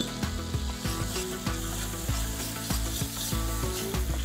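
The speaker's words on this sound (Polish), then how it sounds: "tak przygotowany czosnek wpada na patelnię" Prepared garlic drops into a hot pan and sizzles steadily for a few seconds, a dense crackling hiss with a musical tone running underneath and no talking.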